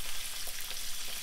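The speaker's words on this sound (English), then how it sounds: "When you cook fish, always skin down. Skin down in the pan." Mullet fillets frying skin-side down in a hot pan give a steady, close sizzle that stays even and unbroken throughout, with no voices.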